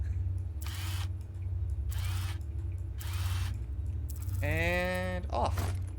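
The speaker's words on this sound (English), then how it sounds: "Take out the bolts." In Mech Mechanic Simulator, bolts come out of a mech part as a power tool whirs in three evenly spaced bursts over a low hum, then a rising mechanical whine follows near the end.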